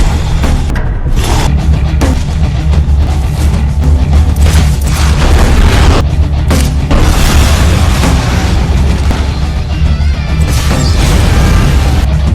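A dynamite explosion: a loud, continuous rumbling blast with heavy booms and crashing debris, deep and dense throughout with no pause.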